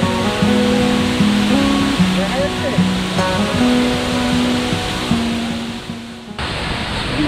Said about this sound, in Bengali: তবে আমরা কিছুটা নিচে নামতেই দেখতে পেলাম ফলস